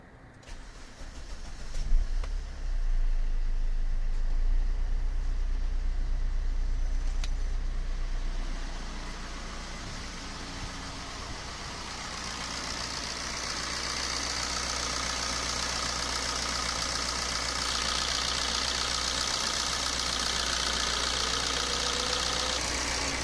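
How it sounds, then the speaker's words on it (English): Car engine cranks and starts with a sharp burst, then settles into a steady idle as the air conditioning compressor kicks in, adding a constant hum and hiss close by; no voices. "let us start the engine and switch on the AC"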